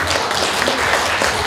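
Guests at a 60th birthday banquet in a Daegu hotel applaud, a brief burst of dense, steady clapping from a room full of people.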